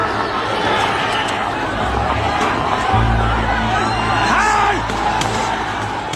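A large crowd of protesters roars and chatters at the gates of Nepal's parliament as they face armed police, a dense, loud, continuous din with shouts rising out of it and a low rumble underneath.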